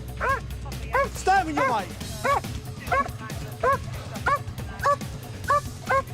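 Police dog barking repeatedly during an arrest of a robbery suspect in London, sharp rhythmic barks and yelps at close range with an officer shouting commands over them.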